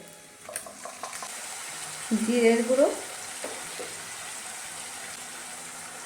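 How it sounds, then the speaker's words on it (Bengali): Ginger-garlic paste added to browned fried onion in hot oil gives a moderate, fairly quiet sizzle with a few stirring clicks, and a person speaks briefly partway through. "এবার আদা রসুনের পেস্টটা দিয়ে দেবো।"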